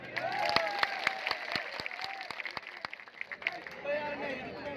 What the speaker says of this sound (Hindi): चलो एक बार फिर जोरदार सारे मंच के लिए ताली बजाते हैं